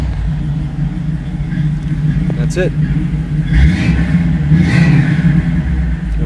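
A car engine cranks, catches, and revs with a deep, rumbling Flowmaster exhaust, swelling louder twice while someone speaks briefly.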